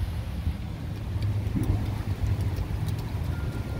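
A Cummins engine runs at a steady idle, giving a continuous low, throbbing rumble that stays close and fairly loud throughout, with no voices over it.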